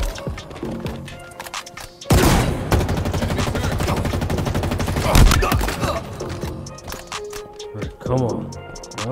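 Heavy automatic gunfire in Halo Infinite multiplayer, a loud sustained burst of rapid shots that fades into scattered cracks and impacts, with a voice speaking over parts of the fight.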